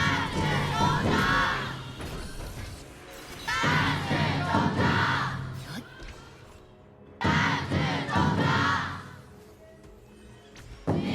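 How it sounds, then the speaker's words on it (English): An esports tournament crowd at a grand final roars and chants for the team in loud rhythmic waves, surging, dipping, then surging again, with clapping and shouting throughout the arena. "let's hear the crowd as they cheer for the team"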